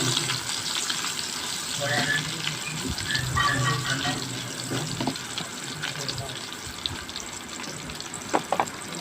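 Chopped garlic, chopped onion and two dried red chillies frying in hot oil to temper lentil dal, a steady crackling sizzle that continues throughout with occasional louder pops near the end.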